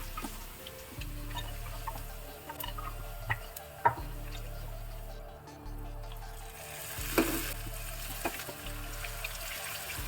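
Cauliflower florets fry in hot oil with a soft, continuous sizzle and faint bubbling, punctuated by a few light clinks and an occasional louder crackle.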